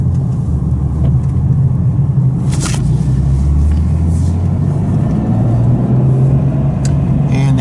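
A Porsche 993 Turbo sports car engine idles steadily with a deep, even rumble, close and constant, with a few faint clicks over the top.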